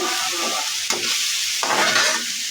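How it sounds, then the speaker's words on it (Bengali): Finely chopped kolmi greens sizzle loudly in a hot pan, close by, while a spatula stirs and tosses them in a few distinct scraping strokes over the constant frying hiss. "শাকটা দিয়ে সুন্দর নাড়ে চেড়ে"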